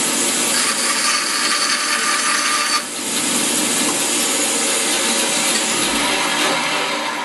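Handsaw cutting a thin sliver from the side of a wooden pen blank held in a sled, a steady close rasping stroke that breaks off briefly near the three-second mark and then resumes without any talk.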